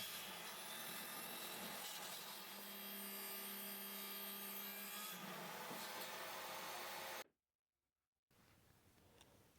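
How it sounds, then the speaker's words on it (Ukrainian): A saw cutting wooden blanks to width against a fence, a steady loud whining rip for several seconds that cuts off abruptly, followed by a short silence and quieter room noise. "виставивши упор на 125 мм, обрізаю всі заготовки в ширину"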